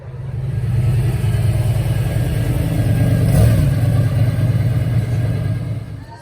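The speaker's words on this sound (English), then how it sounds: "We got the Subaru SVX in action." A Subaru SVX's flat-six boxer engine revs at a cruise night car show, a loud, close, sustained throaty drone that holds steady and peaks briefly mid-way before easing off.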